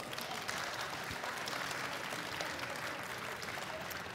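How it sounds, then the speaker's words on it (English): An audience at the EGX 2017 gaming expo gives a round of applause, a dense, even, sustained clatter of many hands, faint and somewhat distant, with no talk over it. "give these people a nice big round of applause"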